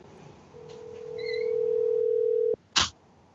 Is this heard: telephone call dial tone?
yes